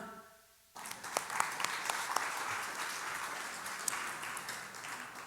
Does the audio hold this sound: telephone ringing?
no